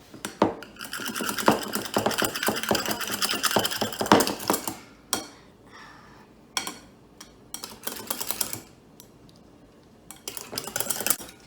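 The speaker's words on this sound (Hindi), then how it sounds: "मैं ये फेंट ली अच्छी तरह से।" A whisk or spoon beats a dalgona coffee mixture by hand in a cup, fast rhythmic scraping and clinking in steady bursts, stopping and restarting several times, close and fairly loud.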